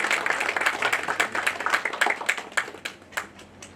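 Loud welcoming applause for a doctor at a gathering on skin health, many hands clapping in a bright, even burst that gradually thins out and fades toward the end.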